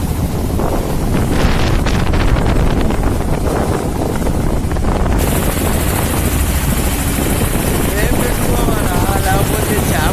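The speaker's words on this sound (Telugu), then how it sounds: "గాలి ఎలా ఉందో, అలా ఎలా ఎగిసిపడుతుందో" Strong wind roars across the microphone aboard a fishing boat at sea during a storm, a loud continuous buffeting rush that swells and gusts for the whole stretch, with water and engine noise mixed into the blast.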